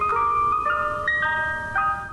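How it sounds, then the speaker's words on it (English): A well-known ice cream truck jingle plays as a bright, tinkling music-box melody, steady and fairly loud, with note changes every half second or so and no voices. "And everyone knows the famous ice cream truck jingle."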